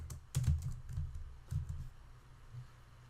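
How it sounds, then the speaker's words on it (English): A few quick clusters of keystrokes on a computer keyboard while entering text in UiPath Studio, soft and close, with pauses between bursts and no speech. "So come here and type flowchart."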